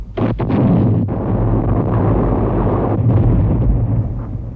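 World War I artillery from around a thousand guns pounds continuously across a six-mile front at Verdun, a loud, dense rumbling barrage of overlapping booms with no pauses or voices.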